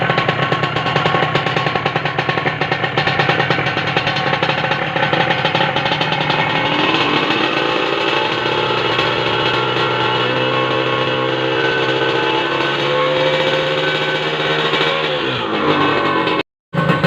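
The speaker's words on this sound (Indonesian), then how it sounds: "Ini motor, mesinnya coba kita hidupin ya." A Kawasaki Ninja R two-stroke motorcycle engine runs close and loud with a raspy, rattling buzz that climbs in pitch as it revs partway through, then drops and cuts out abruptly near the end.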